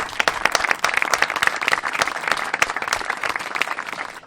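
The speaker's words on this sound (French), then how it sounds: "Je pense qu'on peut les applaudir déjà tous ensemble." Audience at a French live talk show breaks into sustained, dense clapping, a steady crowd applause that carries evenly for several seconds without voices on top.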